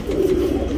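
A male Kaira Cheeni tournament pigeon coos once, a short, loud, close throaty call lasting under a second with nothing else around it.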